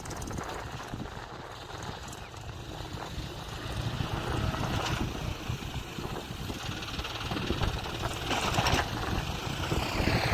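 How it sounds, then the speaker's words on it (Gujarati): Heavy rain pours down during a storm on a farm, a dense steady roar with wind buffeting the microphone, unbroken for the whole stretch. "વરસાદનું બહુ જોર છે મિત્રો"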